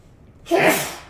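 A single sharp sneeze bursts out close by after a brief quiet moment.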